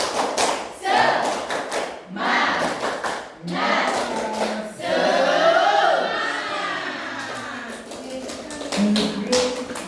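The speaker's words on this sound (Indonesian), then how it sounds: "Kita tepuk semangat terlebih dahulu ya." A class performs a rhythmic spirit clap, tepuk semangat, in short bursts of patterned clapping separated by pauses, with voices chanting or calling along between and over the claps.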